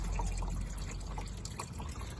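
Steady trickling and dripping of coolant draining from an engine, faint and continuous, with a low background rumble.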